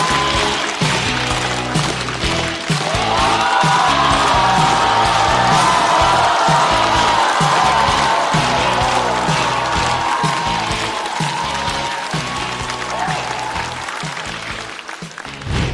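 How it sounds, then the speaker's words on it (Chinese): A studio audience breaks into sustained, loud applause welcoming a stand-up comedian onto the stage of a talk-show taping, a dense wash of clapping that holds steady for about fifteen seconds before tapering slightly. "掌声有请二哥"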